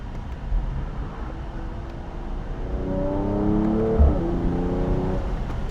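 A Mercedes-AMG E53 convertible with its top down accelerates hard, the engine note rising steadily in pitch and loudness over a few seconds with a faint gear change, heard from inside the open cabin.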